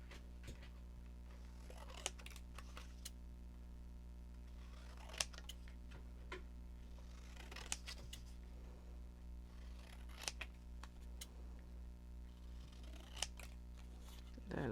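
Scissors snipping paper Christmas tags, a series of sharp, isolated clicks and snips spaced a second or two apart over a steady low hum, with quiet, close handling noise in between.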